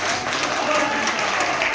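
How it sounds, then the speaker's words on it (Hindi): Applause from an audience at a rally-style welcome, a steady wash of many hands clapping at fairly close range, loud and unbroken, with faint voices mixed in underneath. "आप तालियों के साथ स्वागत करेंगे"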